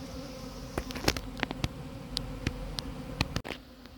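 A recovered swarm of honeybees flies around an apiary in front of planters, a steady close buzzing drone with individual bees passing near and away, punctuated by a few short knocks and clicks, with no talking.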